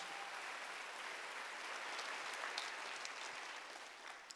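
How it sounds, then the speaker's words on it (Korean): Sustained applause from a congregation at a Korean church's Wednesday worship service, a steady dense patter of many hands clapping throughout, moderately distant and even in level. "박수로 하나 더 해주세요."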